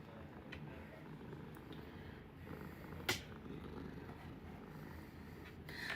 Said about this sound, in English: purrs do send healing frequencies